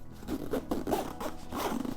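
A pocket on an Aer Gym Duffel 3 bag is zipped shut, giving a close, steady ripping rasp of zipper teeth in several quick pulls over about two seconds, with no voices.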